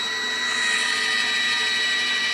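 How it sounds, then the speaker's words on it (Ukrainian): Wire feed motor of a Samurai welding machine, straining under load, gives a steady, loud high-pitched whine with a constant tone, heard close up and alone. "то ви чуєте по звуку, як мотор впирається"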